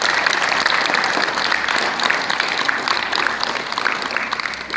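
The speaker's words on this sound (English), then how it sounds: "say thank you for him coming in and seeing us and give a round of applause" Pupils at a school in Stafford give a round of applause for a visiting Paralympian, a loud, dense, continuous clapping from a roomful of children that holds steady throughout.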